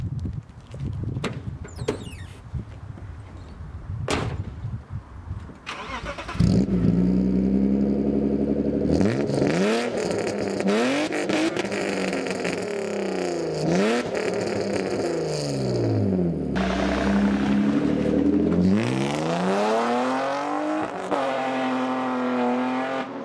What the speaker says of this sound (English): I'm gonna give it some revs anyways and see how it sounds.